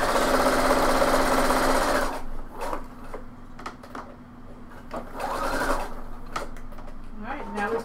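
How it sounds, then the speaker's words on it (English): A sewing machine backstitches a pant seam, running in a loud steady burst and then stopping, with a short rapid run of stitches afterward and a person talking over it. "I put a pin here, and so I'm going to, and then I'm going to backstitch."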